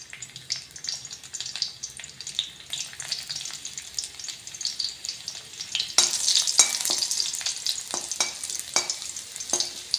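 Garlic sautéing in hot oil in a pan, a continuous crackling sizzle with scraping stir strokes that grows louder and busier partway through, close up with no voices.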